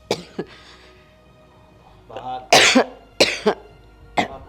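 A person coughs several times in harsh, close bursts, a couple of them doubled, after some quiet throat sounds, in a dramatic indoor scene.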